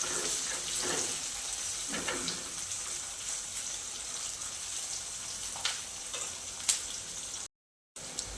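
Finely chopped onion sautéing in a pan for a cabbage vegetable dish, a soft continuous sizzle with occasional stirring scrapes and clinks, fairly quiet and without talk.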